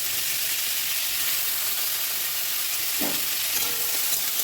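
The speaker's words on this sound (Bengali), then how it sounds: "একটু ভালো করে নেড়ে চেড়ে ভেজে নিলাম" Onions and bitter gourd fry in hot oil in a wok, a steady close sizzle that runs throughout, with a brief spatula scrape and stir near the end.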